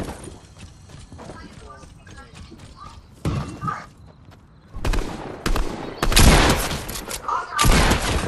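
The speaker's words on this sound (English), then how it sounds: "I've got dudes shooting and cutting out behind me already." Gunfire in the video game Fortnite, with bursts of sharp shots that grow louder and denser in the second half, mixed with game effects and a voice talking over parts of it.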